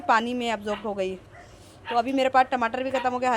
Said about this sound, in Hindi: थोड़ा ये बैकग्राउंड में कुत्ते की आवाज़ आ रही होगी